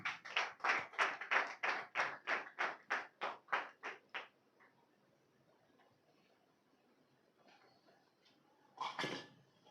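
A congregation at a Christian revival meeting in Mantena village claps in a steady rhythm, about a dozen crisp claps over four seconds. A quiet pause follows, then a short final burst of clapping.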